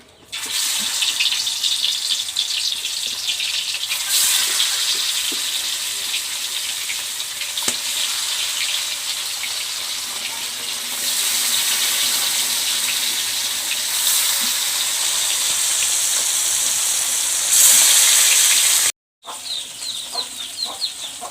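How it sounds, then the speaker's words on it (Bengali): Fish frying in hot mustard oil, a loud close sizzle with crackles that swells in bursts as pieces shift, ending in a brief cut and quieter spatter. "এখন আমি মাছগুলো ভালোভাবে ভেজে নেব"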